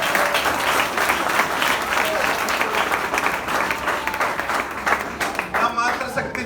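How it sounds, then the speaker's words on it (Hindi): Loud, sustained applause from a college freshers' event audience fills the hall, dense clapping with cheering voices mixed in throughout. "ताली बजाओ जोरदार।"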